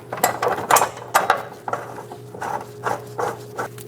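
Ratchet clicking as bolts are started on the fuel tank of a 2011 Dodge Durango 5.7L V8, several bursts of close, rapid ratcheting with brief pauses between strokes.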